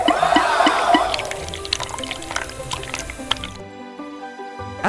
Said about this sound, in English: Water is being pumped to another tank.